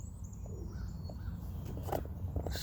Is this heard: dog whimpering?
no